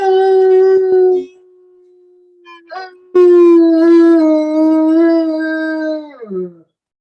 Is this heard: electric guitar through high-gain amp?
no